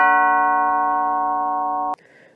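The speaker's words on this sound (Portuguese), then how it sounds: "a campainha começou a tocar violentamente" An electric doorbell rings violently in one long, unbroken buzzing tone lasting about two seconds, loud and harsh with a rich stack of harmonics, then cuts off abruptly into a faint quiet room tone.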